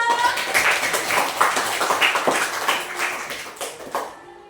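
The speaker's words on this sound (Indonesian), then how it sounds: "Tepuk tangan buat kita semua." A group of children and a teacher clap their hands together after finishing a classroom game, a dense, steady patter of many overlapping claps lasting several seconds before tapering off.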